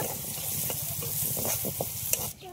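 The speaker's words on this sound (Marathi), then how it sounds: "ते मस्त परतून घेतो, मस्त कांद्याला लाल कलर येईपर्यंत" Onion and green chillies sizzle in a pan while being stirred, a close crackling fry with scattered spatula clicks and scrapes, steady and moderately quiet with no talking.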